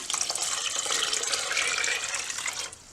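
Water pours steadily into a cooking pot in a home kitchen, a close, continuous splashing rush that stops abruptly near the end.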